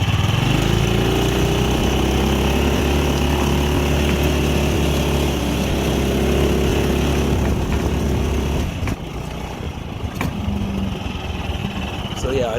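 A Yerf-Dog Spiderbox 420cc buggy engine drones steadily and loudly near a desert trail, then drops off and fades as the buggy pulls away. Someone talks over the engine.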